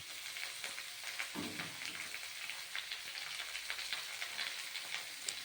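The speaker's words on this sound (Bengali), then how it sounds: "এটাকে ভালো মতন নাড়াচাড়া করে ভালো মতন লাল করে একটু ভেজে নেব" Finely chopped leafy greens fry and are stirred in a pan, giving a steady, moderate sizzle with soft scraping of the utensil throughout, and no voices.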